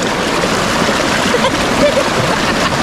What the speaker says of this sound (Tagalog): Ang lakas ang agos na oh!